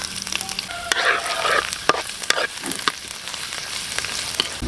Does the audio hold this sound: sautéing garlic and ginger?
yes